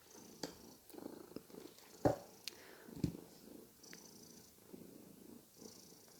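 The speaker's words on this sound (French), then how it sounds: "Un chat qui ronronne" A cat purrs steadily up close, a low rumbling drone with a few soft clicks and shifting noises mixed in, and no voices.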